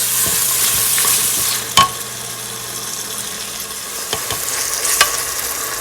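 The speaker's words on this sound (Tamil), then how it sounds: "தக்காளி நல்லா மசிஞ்சு வதங்கும் வரைக்கும் நாங்கள் வடிவாக கிளறி விடுவோம்" Tomatoes frying and being stirred in a pan while cooking mutton biryani, with a steady close sizzle and a few sharp scrapes and clinks of the spoon against the pan.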